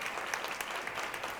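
An audience at a 1996 women's leadership forum claps steadily throughout, a dense, even patter of many hands from a moderately distant crowd.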